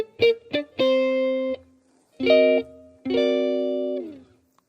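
Neo-soul jazz guitar plays an octave melody with chords: a few quick plucked notes, then sustained ringing chord voicings in short phrases separated by brief silences, clean and close with no talking.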